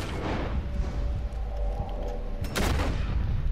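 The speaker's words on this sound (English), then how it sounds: "Ah, look, he wanted to use explosives." Explosives and gunfire crack in the online Western game Red Dead Online, a loud dense rumble of blasts with a sharp burst of shots near the end.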